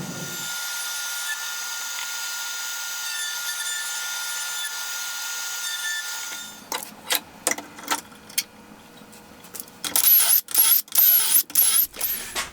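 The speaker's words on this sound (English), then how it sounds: "So I set my smallest round over bit in the router table, and I'm going to round over all the edges of the legs" A router table with a small round-over bit shapes the edges of wooden treadmill-desk legs: a steady high motor whine runs for about six seconds, then gives way to a series of sharp, intermittent cutting bursts as each edge passes the bit.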